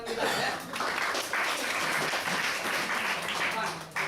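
An audience at a sales and recruiting training session claps in a steady burst of applause that lasts about four seconds, with voices mixed in.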